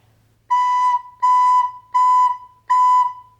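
Recorder playing four separate quarter notes on one steady pitch, an even rhythm of clear, close, breathy tones with short gaps between them, no voices.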